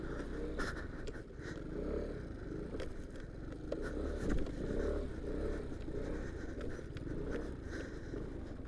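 An Aprilia SR 125/160 scooter struggles over a rough, broken road, its small engine droning steadily with scraping and knocking from the bumpy surface, close and continuous throughout.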